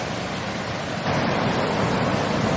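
A waterfall near Playa Negra, Costa Rica, pours in a dense, constant rushing roar, close and loud, growing slightly stronger partway through with no voices.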